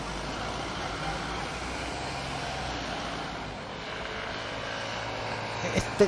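A commercial airliner descending to land gives a steady, broad rumbling roar that stays even throughout, with a slight swell and a couple of sharp knocks near the end.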